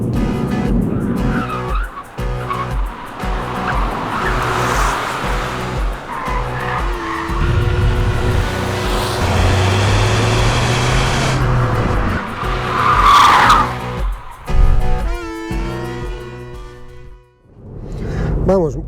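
A 2022 Ford Fiesta ST Line 1.0 EcoBoost 155 is driven on a fast lap with traction control off and Sport mode on: the engine revs loudly and continuously, tires squeal and skid through corners, and a voice talks over it.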